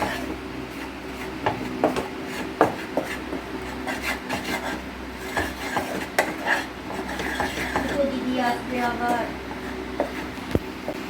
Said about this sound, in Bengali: এটাকে ভালো করে মাখিয়ে নিচ্ছি, খুব বেশি ঘি দেওয়ার দরকার নেই, অল্প একটু ঘি দিয়ে মাখিয়ে নিয়েছি।